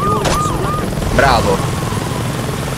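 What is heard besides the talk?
helicopter in the video game Saints Row 2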